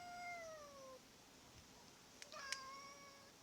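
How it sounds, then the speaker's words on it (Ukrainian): A cat meows twice, long drawn-out cries with a gap between them, fairly close against quiet room background. "І ти плачеш, котик."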